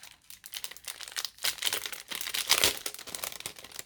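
Plastic packaging around a small cloud-shaped craft cutter crinkles and tears as it is unwrapped. The rustling comes close up in irregular bursts that swell and fade, with no talk.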